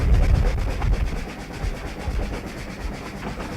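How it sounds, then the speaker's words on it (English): An Isle of Man steam railway train runs between Colby and Ballabeg, its carriages rumbling and rattling close by with a rhythmic clatter of wheels over rail joints, heard alone for a few seconds. "And so the train proceeded from Colby to Ballabeg."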